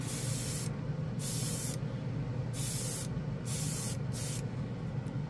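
Decanted spray paint is airbrushed onto black plastic in four short hissing bursts separated by brief pauses, close and loud over a steady background hum, with no talking.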